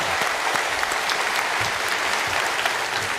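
Steady, dense applause from a large church congregation indoors after a choir's hymn, sustained and even throughout without pauses.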